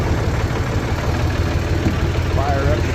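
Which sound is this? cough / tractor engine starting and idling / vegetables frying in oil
tractor engine starting and idling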